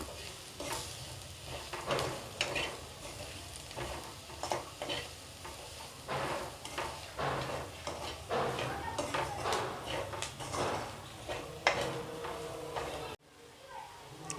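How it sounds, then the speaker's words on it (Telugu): Onions frying in a pan for spicy onion rice, sizzling steadily while a utensil scrapes and stirs with repeated clattering strokes against the metal, loud and close throughout before cutting off abruptly near the end. "సో మన ఆనియన్ వచ్చేసి ఫ్రై అయిపోయింది"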